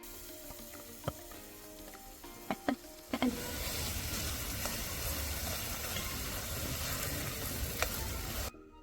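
Roasted eggplant bharta hits a hot pan and breaks into a steady, loud sizzle of frying after a few light clinks, continuing evenly until it cuts off abruptly.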